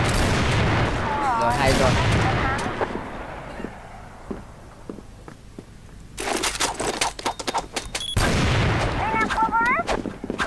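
Sharp sniper rifle shots from an R93 in the shooter game CrossFire, several loud isolated cracks spread across the span alongside game effects, with someone talking over parts of it.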